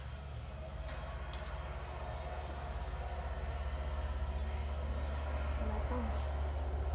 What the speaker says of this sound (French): C'est un tracteur.